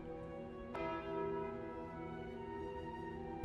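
A single bell struck once for the Curse of the Bell in the video game Slay the Spire, its rich ringing tone lingering and slowly decaying over a quiet background.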